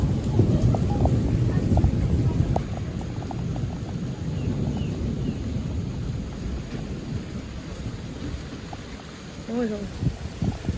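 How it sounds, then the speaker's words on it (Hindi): Heavy rain pours steadily on a Karachi street while thunder rumbles low beneath it, a continuous dense hiss with deep rolling undertones, and a voice speaks over the storm. "बादल भी गरज रहे अभी भी"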